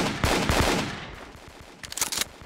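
Gunfire in the online shooter Kuboom during a deathmatch, several close, loud bursts of shots with a rapid burst again near the end, heard alone without talk.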